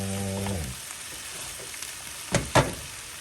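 Cabbage and bok choy frying in a full pan, a steady soft sizzle throughout, with two short clattering stirs near the end.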